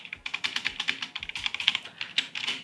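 Fast typing on a mechanical keyboard fitted with cheap keycaps, a rapid irregular patter of sharp close clicks and clacks, loud and alone.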